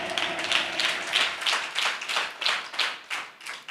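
A church congregation claps hands in a steady, even rhythm, sharp unison claps about three per second, fairly close and alone without talk.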